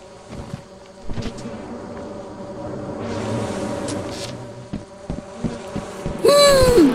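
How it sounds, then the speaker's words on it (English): Circuit bees in the video game Lethal Company buzz steadily, a swelling insect drone under scattered game noises, ending in a louder rising electronic sound. "why is there a bee thing right there?"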